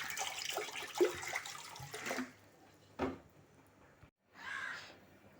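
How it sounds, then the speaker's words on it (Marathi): Half a litre of water is poured into a kadhai for a homemade mango drink, splashing in a few short bursts separated by quiet gaps, near and moderately soft. "आता मी ही कढई ठेवली आहे आणि त्याच्यामध्ये हे मी अर्धा लिटर पाणी घालते"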